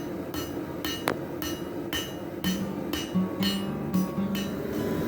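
Hammer forging and tapering the end of a steel bar for a flint striker, with repeated sharp metallic blows in an irregular rhythm, some ringing, set against a steady background hum.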